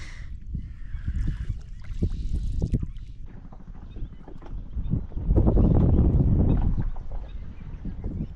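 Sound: wind-driven waves slapping a boat

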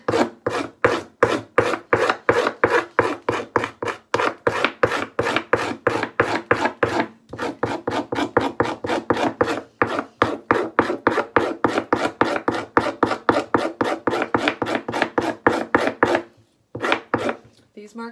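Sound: scraping fish skin for leather making

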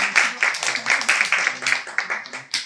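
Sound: audience applause at a musical performance

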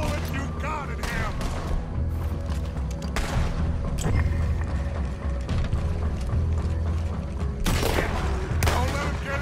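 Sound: gunfire in Red Dead Redemption 2 video game

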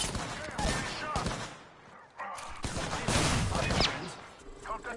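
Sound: gunshots in a video game

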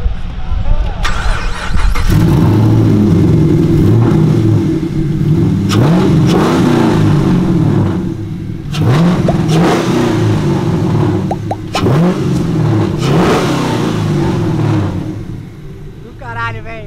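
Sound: Chevrolet Camaro V8 engine revving

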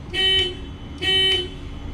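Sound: emergency horn inside Kia Bongo 3 box truck

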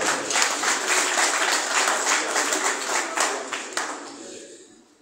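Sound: applause

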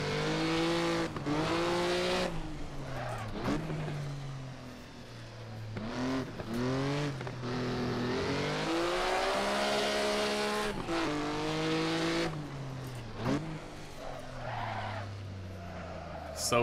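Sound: Maserati 250F race car driven at Monaco

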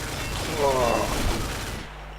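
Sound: Dual Scorpions gunfire in Combat Arms video game

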